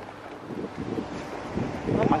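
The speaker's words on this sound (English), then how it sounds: "Oh my goodness, it's windy." Strong wind gusts buffet the microphone in a steady low roar, rising toward the end.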